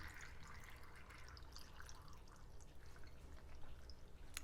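Filtered water pours steadily into a pot of potatoes with a continuous splashing, trickling sound, close by and fairly quiet.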